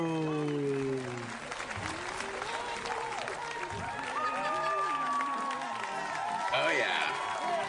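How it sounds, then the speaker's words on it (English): An audience on a talk show applauds and cheers, steady clapping with a few whoops, partly under music tones and a host's voice that cuts in and out over the crowd. "That deserves the applause of the entire globe."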